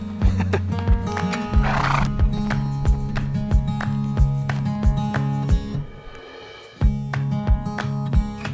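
A buckskin Appaloosa horse lopes with steady, rhythmic clip-clop hoofbeats close by, briefly broken by a whinny and a short near-silent pause before the three-beat footfalls pick up again.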